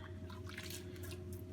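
A Henry vacuum cleaner's motor ring is rinsed under water, with faint continuous trickling and dripping over a low steady hum.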